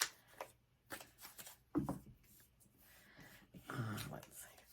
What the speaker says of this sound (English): Just a couple more shuffles.